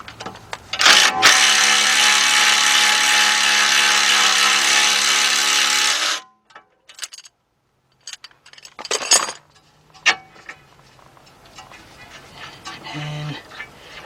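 A tool works the front axle nut on a 2011 Jeep Patriot 2.0: a loud, steady mechanical whir holds for about five seconds, then stops, followed by a few scattered metallic clanks and knocks.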